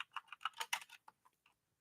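Keys tap on a computer keyboard in a quick burst of close, light clicks, slowing to a few scattered strokes before falling quiet.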